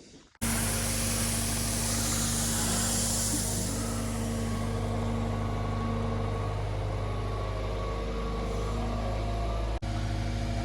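A vehicle engine runs steadily while hauling gravel through trees, a constant low idling drone with humming tones, starting abruptly and continuing close by.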